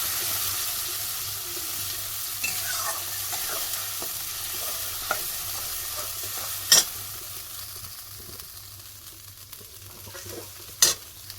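Spice paste sizzles in oil in a kadai, a steady soft frying hiss with occasional stirring scrapes and a couple of sharp clinks.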